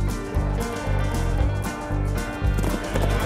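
Racehorses at a race meeting at Down Royal racecourse, with steady rhythmic hoofbeats pounding close and loud over a busy, tonal background.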